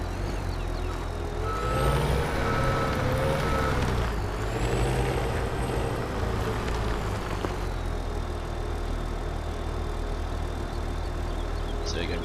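A dump truck in Farming Simulator 2017 idles with a loud, steady diesel rumble while a high electronic reversing alarm beeps repeatedly, a hiss of air brakes cutting in midway, with faint game tones in the background.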